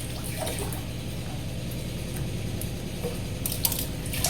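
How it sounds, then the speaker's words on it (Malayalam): Milk poured into a mixer jar holding cut bread pieces, a steady close liquid stream running for several seconds with faint splashes at the end and no talking. "കുറച്ച് ഒഴിക്കണുള്ളൂ."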